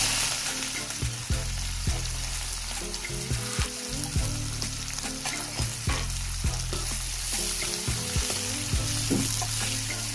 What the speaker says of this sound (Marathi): एक चमचा मोहरी टाकली एक चमचे जिरे टाकायचे आणि आता आहे ना कांदा परतून घ्यायचा आपल्याला